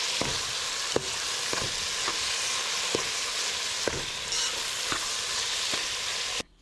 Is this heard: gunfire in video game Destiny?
no